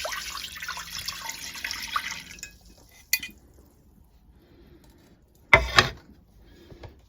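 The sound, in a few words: blackberry liquid poured out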